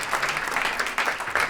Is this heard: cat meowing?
no